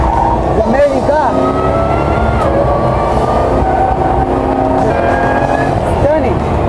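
A Jaguar C-X75 supercar drives along, its engine note rising and falling in steady tonal sweeps under excited talk.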